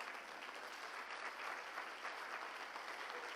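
A church congregation applauds during a sermon, a soft, distant wash of clapping heard faintly at low level with no voices over it.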